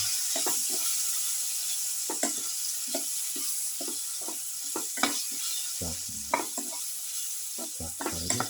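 Tomato and winter melon pieces stir-fried in a pan: a continuous sizzle under repeated scraping strokes of a spatula, irregular and close, with a few louder clatters near the end.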